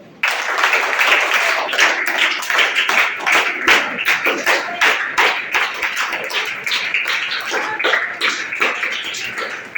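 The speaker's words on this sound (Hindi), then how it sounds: "आपके लिए भी तालियां" Applause for teachers at a school function, a crowd of hands clapping briskly with dense, uneven slaps that stay loud and continuous before thinning toward the end, no talk over it.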